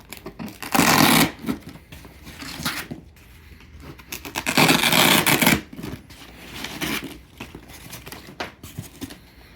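Layers of black styrofoam packaging with black straps around a custom resin statue being pulled open, giving bursts of close rustling and scraping followed by softer handling noises.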